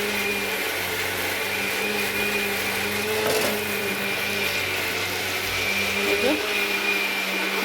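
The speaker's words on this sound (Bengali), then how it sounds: "এই দেখো মিক্সিম্যানটাকে আমরা ভাড়া করে এনেছি, এইসব মশলা বাটার দায়িত্ব দেওয়া হয়েছে এটাকে" A mixer grinder whirs continuously at close range while grinding spices, a steady high motor drone with slight pitch shifts, with household noise and occasional voices in the background.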